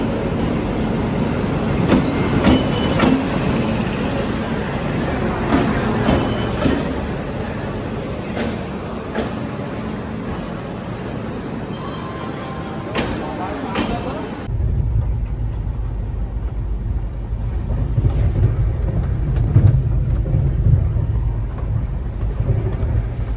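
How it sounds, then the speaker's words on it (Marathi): A train arrives at a station at night, a loud rumbling roar with rattling and clanking that cuts off abruptly into a steadier low hum, with people talking in the background. "तर आता आमची गाडी आली"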